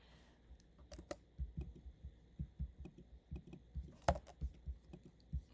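Keys tapped on a computer keyboard in a simulation program, giving soft, fairly steady thumps and clicks, close and quiet, with one sharper click near the end and no speech.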